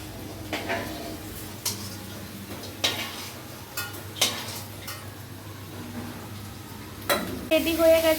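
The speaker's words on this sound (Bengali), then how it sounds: "চিকেনগুলো ভাজা এখনও কমপ্লিট হয়নি একটু বাকি আছে" Chicken frying in a pan for chilli chicken gives a soft background sizzle, punctuated by several sharp scraping and clattering bursts from a spatula against the pan at irregular intervals.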